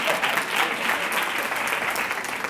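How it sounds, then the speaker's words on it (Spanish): Dense applause from the audience at a talk on teachers' emotional skills and leadership, loud and continuous for a couple of seconds, many hands blending into a steady wash. "Un aplauso para él que me ha hecho un favor ahora."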